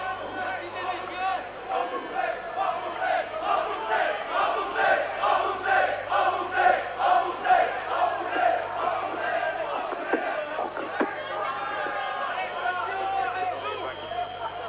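Football crowd at a 1983 European Cup second-round match between Standard Liège and Dundee United, shouting together in loud rhythmic chanting that pulses steadily across the stadium, with voices rising and falling throughout.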